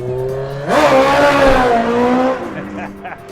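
A 2012 Toyota FJ Cruiser pulls away hard, its engine note jumping from idle into a loud, rising roar that climbs through the revs and then fades slightly as the vehicle accelerates off.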